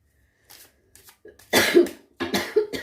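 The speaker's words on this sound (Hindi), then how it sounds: "सॉरी व्यूअर्स, मुझे आज बहुत खांसी आ रही है" Several close, harsh coughs in quick succession, starting with softer throaty sounds and building to louder bursts near the end.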